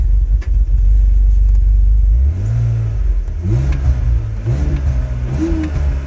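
A BMW E46 engine with vacuum leaks runs roughly, a loud close rumble whose pitch climbs and dips unevenly through a few sluggish revs.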